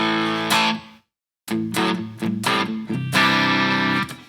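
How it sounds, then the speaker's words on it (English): Enya Inspire electric guitar played through its built-in onboard speaker on a crunch channel, giving a few loud overdriven chords and notes in short bursts, with a brief silent gap before a final ringing strum. "Push the button once, we're on channel 2, and this is kind of like a crunch channel."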